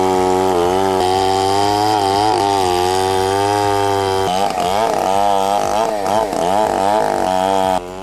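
A heavy chainsaw runs loud and steady as it cuts through huge rounds of wood, the engine pitch dipping and surging under load near the end, close and continuous with no talk.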